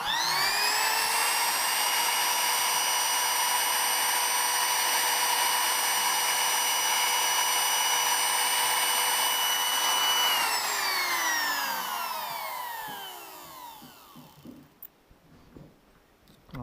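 A compressed-air blower whines steadily while clearing wood shavings from a turned vessel, a loud sustained high-pitched tone that winds down and fades, followed by faint handling clicks.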